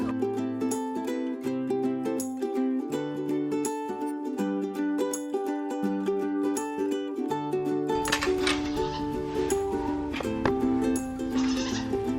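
Goats bleating repeatedly in wavering, nasal calls, several voices overlapping at close range, with a noisier stretch of bleats toward the end.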